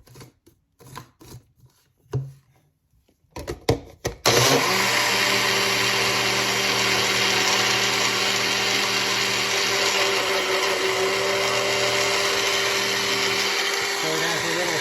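A blender fitted with a different blade churns cashews and dates, starting after a few scattered clunks and knocks, then running as a loud, steady, continuous whir to the end.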